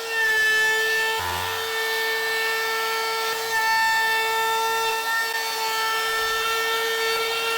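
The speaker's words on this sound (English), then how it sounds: "we're going to take our little Dewalt trim router" A small Dewalt trim router whines steadily at close range with a high, sustained tonal pitch, rounding over the edges of a wooden stool, its cut changing slightly as the bit meets the wood.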